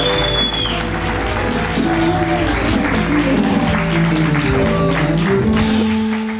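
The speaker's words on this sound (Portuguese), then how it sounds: "Vosso aplauso, Luís Pereira de Sousa." A crowd applauds steadily from start to finish, the dense clapping sitting over music playing underneath.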